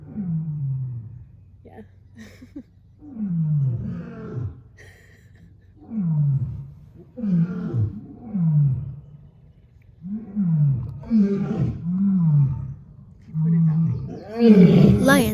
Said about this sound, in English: Lions, both in captivity and in the wild, use this sound to communicate to others that this is their territory.